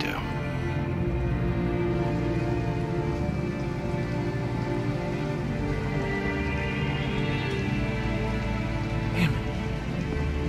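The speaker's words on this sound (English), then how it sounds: "it's pouring rain" Steady pouring rain from Detroit: Become Human fills the scene as a continuous dense wash, with game voices and soft music over it.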